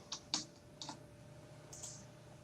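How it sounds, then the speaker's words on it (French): A computer keyboard clacks during a League of Legends game session, a few sharp, separate keystrokes close to the mic followed by a softer cluster of taps, over a quiet steady background hum. "je suis désolé d'avance s'il y a des bruits de clavier ou de souris"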